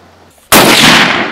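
A single loud rifle shot fired outdoors in northern Ontario cracks close by, bursting suddenly after a quiet lead-in and ringing out as a broad, sustained blast with no talking.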